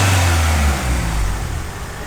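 Honda EK hatchback with a B20 engine, a loud close engine rev that surges then eases back into a rough steady idle, with no talking.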